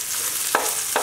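Onions fry in a pan to golden brown under a steady, bright sizzle, with two quick stirring scrapes in the short burst.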